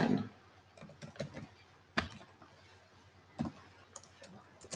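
A computer mouse gives several sharp, faint clicks at irregular intervals in a quiet room while a software installer is being worked through.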